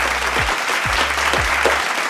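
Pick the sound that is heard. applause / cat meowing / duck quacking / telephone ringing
applause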